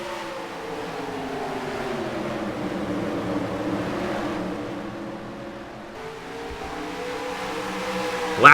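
ARCA Racing Series stock cars at Toledo drone past at a distance, engine tones rising and falling steadily in a low continuous roar.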